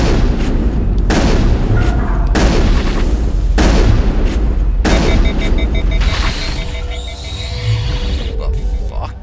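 Heavy shotgun blasts boom in the Mass Effect video game, four loud, widely spaced shots over a couple of seconds each, followed by ringing echoes and fainter combat noise.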